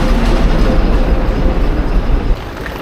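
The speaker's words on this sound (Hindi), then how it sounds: "ये यहाँ की ट्रेन है" A train rumbles past at close range in Batumi, Georgia, a loud, steady roar of wheels and carriages that eases slightly just before the end.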